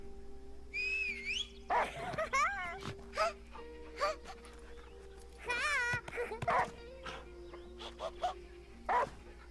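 A dog in the video game Last Day of June gives several short barks and whimpers, spaced out over an electronic hum, with a person talking between them.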